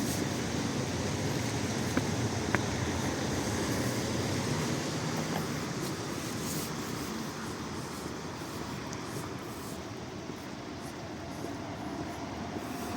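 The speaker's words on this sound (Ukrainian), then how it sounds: "Трамвай номер 2 курсує до гори" A tram rumbles past on a snowy street in Lviv with a steady low roar and faint rail clatter, mixed with broad street noise, gradually easing toward the end.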